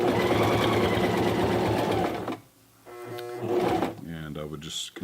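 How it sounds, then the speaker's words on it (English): A Toyota FSG325 sewing machine stitches a denim jeans hem in steady, rapid mechanical bursts, pausing briefly midway and then restarting. A voice talks over the stitching near the end. "I'll sew a little bit and then pull the foot up to let it get under the fabric evenly."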